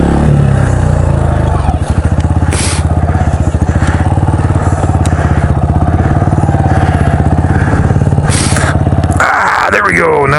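A KLR motorcycle engine runs loud and close with a steady thumping single-cylinder putter, holding a constant idle-like rhythm for about ten seconds before a brief change in tone near the end.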